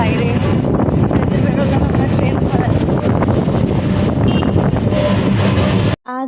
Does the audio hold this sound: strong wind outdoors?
yes